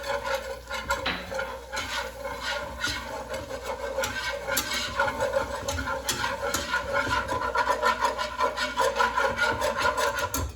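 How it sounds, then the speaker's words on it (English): Whisk scraping rapidly around a pan as flour is stirred into melted butter, a continuous close, rhythmic scratching and rubbing without pause. "We're going to whisk the flour in here."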